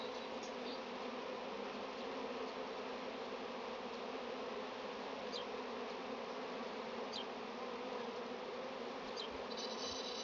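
Swarming honey bees crawl and hum, a steady dense buzzing drone that holds evenly throughout with no voices.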